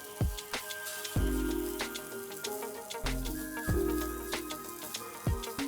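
Spices and coarsely mashed boiled potatoes sauté in a pan, a soft crackling sizzle broken by several sharp clanks and knocks of a utensil against the pan at irregular intervals.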